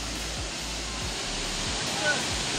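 Burude Falls waterfall in Siddapur roaring as a steady, broadband rush of flowing water, constant and fairly soft throughout with no break, a few faint low thumps underneath.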